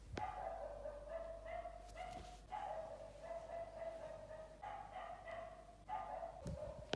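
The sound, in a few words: street dog barking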